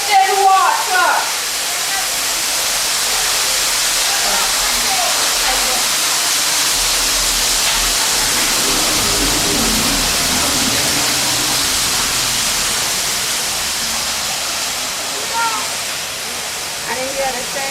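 Water gushes to waste from broken tourism infrastructure, a steady loud broadband rush that continues throughout, with a person talking intermittently over it.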